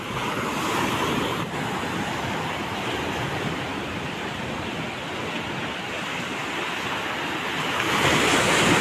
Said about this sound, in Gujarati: દરિયો જુઓ તમે કાંઠે આવી ગયો છે સરસ મજાના લોઢ વળે છે ને પાણી ઉડાડે છે ફુવારા જેમ